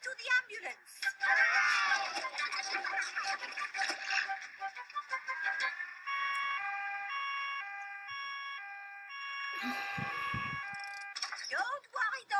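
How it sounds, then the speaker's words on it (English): An ambulance siren in a Peppa Pig cartoon wails in a steady two-tone pattern for several seconds. Cartoon voices talk before and during it, with light ticking sounds mixed in. "The ambulance is here."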